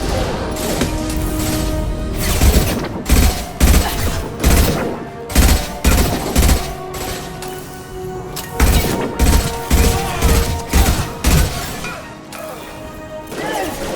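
Combat in Mass Effect 2 with concussive shot blasts and gunfire: loud, repeated bursts of rapid shots and heavy impacts in irregular clusters, with short pauses between volleys.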